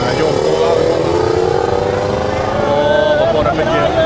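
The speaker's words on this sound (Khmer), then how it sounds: "ខ្ញុំយកម៉ូតូឡើង" A motorcycle engine drones and revs steadily up close as it is ridden up for loading, with someone talking over it throughout.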